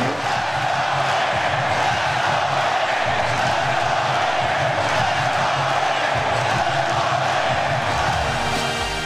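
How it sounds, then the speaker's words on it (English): Arena crowd at a Knicks road game in Charlotte, a dense, continuous roar of cheering and chanting voices filling the whole stretch, loud and sustained without pauses. "here's what the crowd in Charlotte said"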